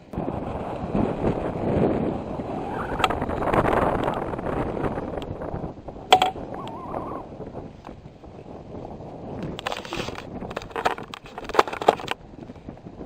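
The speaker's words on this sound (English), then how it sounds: "But it is windy now." Wind blowing outdoors on a walk along a road, gusting roar against the microphone that swells and fades, with rustling and crunching footsteps and handling bumps.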